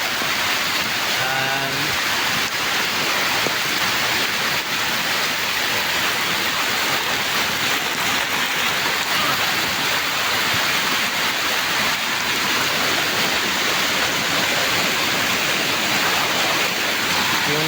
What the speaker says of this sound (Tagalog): parang bumubulwak na ang dating oh. at ito na ngayon yung sapa